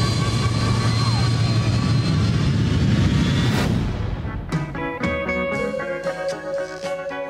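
Jet engines roar loud and steady from an airliner in flight, heard in a film trailer. The roar cuts off midway, followed by dramatic music hits.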